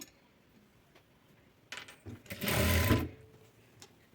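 A sewing machine stitching the side slit opening of a dress, a short quiet run of rapid mechanical stitching after a few faint ticks, alone and close.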